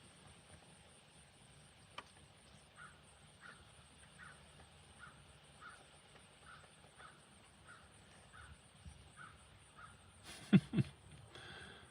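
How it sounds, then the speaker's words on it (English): A crow caws repeatedly outdoors, a string of evenly spaced, fairly distant calls over quiet ambience, followed by a couple of louder knocks near the end. "There's my crow."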